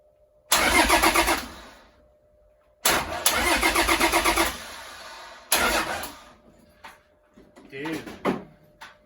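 A car engine cranks and catches after a clutch repair. There are three separate bursts of engine noise with quiet gaps between them, followed by softer uneven rumbles as it settles, heard close.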